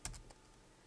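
A few quick keystrokes on a computer keyboard, two or three soft clicks at the start, then quiet.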